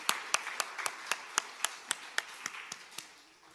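Clapping in a church service, a slow, evenly spaced series of about a dozen sharp, distinct claps, fairly faint against quiet background.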